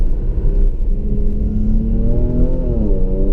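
A Jaguar F-PACE S accelerating at full throttle, its engine a loud, close, continuous roar with the pitch climbing steadily and then dipping briefly at a gear change near the end.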